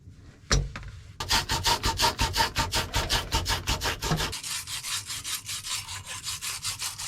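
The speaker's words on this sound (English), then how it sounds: "I don't have a good pipe deburrer, or whatever it's called, but this works good." A cut water pipe is deburred with a makeshift tool during a relief-valve repair on a water heater. After one sharp knock, a rapid, regular rasping scrape repeats up close, getting lighter near the end.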